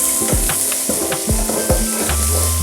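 Green chillies and onion sauté in a hot pan for a Kerala-style green peas curry: a steady close sizzle with several spatula scrapes and stirs across the pan.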